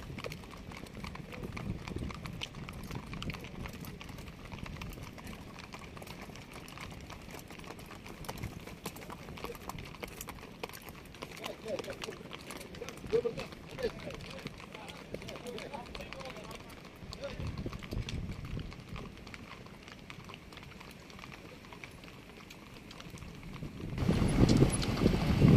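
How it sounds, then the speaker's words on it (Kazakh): Adai horses arriving after a 1,200 km marathon horse race near Aktau, hooves clip-clopping at a steady run, mid-distance, with crowd voices and talk throughout and a louder rumble near the end. "Адай жылқылары мықты, не деген."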